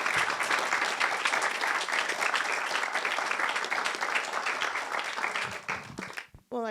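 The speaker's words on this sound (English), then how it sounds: "help me give you a round of applause" Dense, sustained audience applause fills an arts and music gathering, loud and steady from the start, then thins and fades out near the end.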